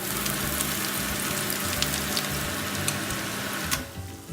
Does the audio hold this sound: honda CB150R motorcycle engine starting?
no